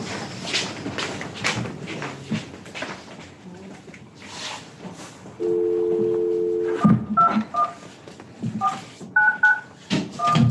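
Telephone keypad tones dialed in a short irregular sequence after a steady dial tone, in a meeting room with background murmur and voices.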